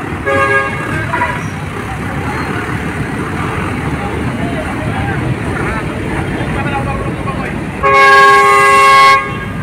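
A large truck churns through deep floodwater on a flooded city road, a steady rushing wash of water and engine rumble, ending in a loud horn toot.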